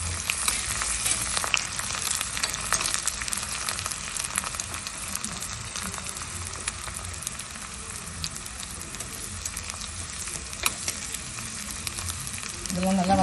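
Dried red chillies and curry leaves sauté in hot oil for a pineapple moor kuzhambu, giving a steady, loud, close sizzle and crackle that runs unbroken throughout, with a brief burst of a voice near the end.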